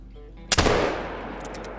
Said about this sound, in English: But this is the muzzleloader.